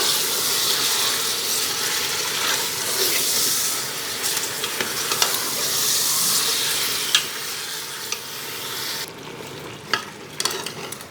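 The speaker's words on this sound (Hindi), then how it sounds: "अब इसको फ्राई कर लेंगे अच्छी तरह।" Beef pieces, a mix of bone-in and boneless meat, fry for nihari in a pan with a steady, loud sizzle and hiss, broken by occasional stirring clatters near the end.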